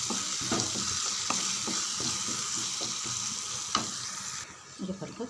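Masala with curry leaves frying in oil in a pan, a loud continuous close sizzle with regular stirring scrapes, thinning out near the end.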